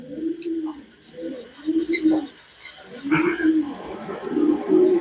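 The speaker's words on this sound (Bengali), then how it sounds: "এটা একটা মাদি কবুতর" Female pigeon cooing in a series of low, rolling coos, close and moderately loud, with brief pauses between phrases and faint rustling and background noise.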